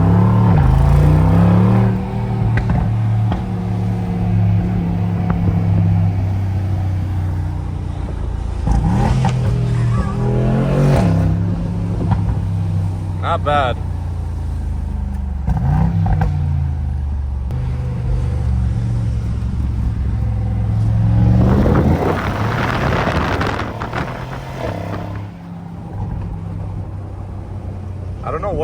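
A Mercedes G63 with an FI axle-back exhaust on a test drive, its engine rumbling and revving in several surges that rise and fall, with brief remarks from people inside the vehicle.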